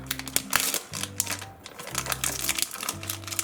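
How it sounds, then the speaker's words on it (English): Plastic packaging being cut open with a crisp crinkling and snipping, several close rustles and crackles in quick succession. "So firstly, I will cut this plastic off"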